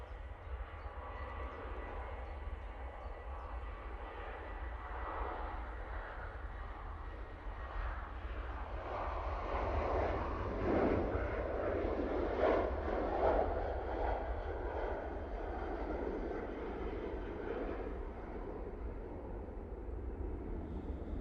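A KLM Boeing 737-700 departs Manchester Airport for Amsterdam Schiphol, its engine roar building steadily from a distant rumble to a broad, sustained whoosh and then holding loud and continuous with no talking.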